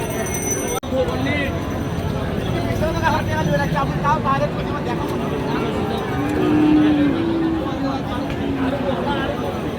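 Friesian and cross-breed cattle and bull calves at the Raniganj cattle market, with a low moo rising out of dense crowd chatter and steady market bustle, people talking throughout.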